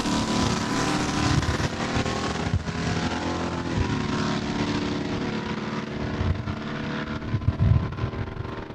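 Drag race at Saskatchewan International Raceway between a Plymouth Duster and a Dodge Adventure truck, heard as a continuous roaring engine drone from a distance, steady and fairly loud throughout.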